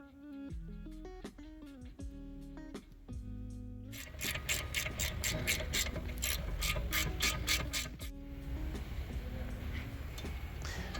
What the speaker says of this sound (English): I ended up using a 10mm wrench to hold the nut in place while I'm trying to tie the nut.